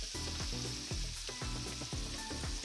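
Garlic and a few onion slices sauté in a pan with a continuous close sizzle, under a loud buzzing electrical hum that pulses in a regular rhythm.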